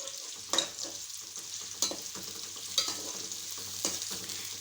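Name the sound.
onions frying in a pan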